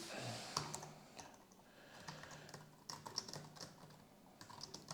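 Rapid computer keyboard typing while a workflow node is renamed, a steady run of close, soft key clicks with brief pauses, heard alone without talk.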